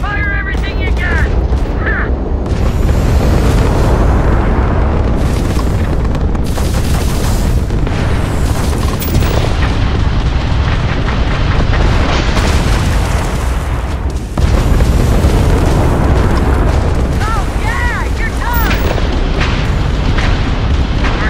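Sustained space combat in Starfield, with heavy weapons fire and booming explosions piling on top of each other, loud and dense throughout, interrupted by a sharp impact burst partway through, with music and effects filling the whole mix.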